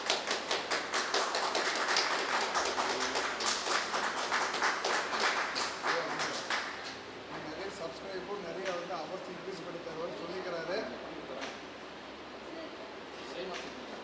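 Audience clapping to honour a guest at a Tamil devotional gathering, a dense burst of applause that is loud at first and then thins and fades over the following seconds.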